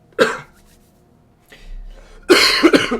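Two harsh coughs close up, one short and then a longer, heavier fit after a pause, with faint breathing between.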